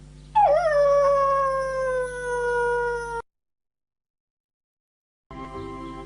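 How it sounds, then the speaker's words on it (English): A single long, drawn-out vocalization from an Afghan hound, loud and close, more a deep howl than a bark, followed by silence and then another brief animal cry. "gave them his newly invented, super-deep, mighty Afghan hunter, hyper-loud, grown-up bark"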